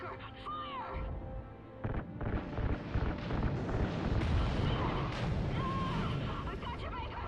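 RCS fuel lines igniting and firing in the video game Call of Duty: Ghosts, a rising rumbling roar of bursts and booms that swells and stays loud, with voices talking over the action.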